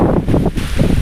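Sea waves surge along the coast at the Stambheshwar Mahadev temple in Kavi Kamboi as a loud, continuous rushing wash, with heavy wind buffeting the microphone.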